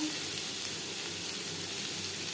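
Soybean curry ingredients frying in a pan as they're stirred, a steady broadband sizzle with no distinct scrape strokes, moderately loud and unbroken throughout.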